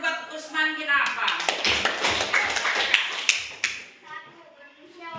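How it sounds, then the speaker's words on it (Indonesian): Classroom applause from students cheering on a presenting group named Utsman bin Affan, dense patter of hands with a teacher's voice speaking over it near the start and end. "Tepuk tangan dulu buat Utsman bin Affan"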